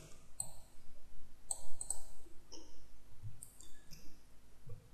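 Keyboard keys, Alt and Shift, clicking during Illustrator CS5 logo work: sharp, close clicks scattered irregularly, some in quick pairs, over a quiet room hum.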